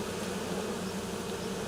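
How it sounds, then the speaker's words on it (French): A honeybee swarm settled on the ground hums with a dense, steady buzz of many wings, a continuous droning drone close by with no voices over it. "elle rappelle toutes les abeilles qui volent"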